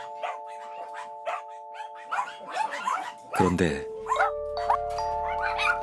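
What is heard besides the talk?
dogs barking in a dark abandoned greenhouse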